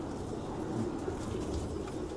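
Homing pigeons coo in a loft, a low dense murmur of many birds blended into a constant background hum with no clear single calls.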